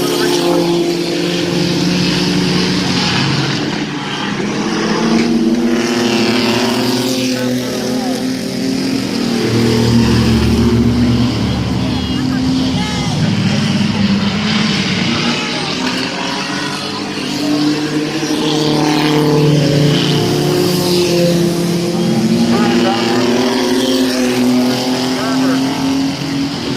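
Mini truck race cars circle a speedway oval during a heat race, engines droning and revving in rising and falling waves as they pass, with an announcer's commentary running over the engine noise.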